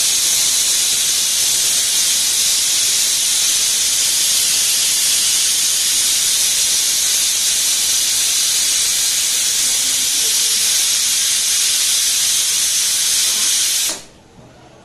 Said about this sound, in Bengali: কষানোর পর প্রেশার কুকারে দিয়েছে সিটি দিচ্ছে